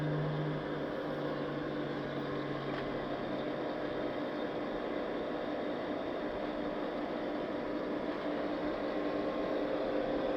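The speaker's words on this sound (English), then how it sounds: "you guys notice how the pumps are working real slow" Pool pumps running slowly on a 50 Hz supply give a steady, low, even mechanical hum with a faint whine, constant and quiet throughout with no talk.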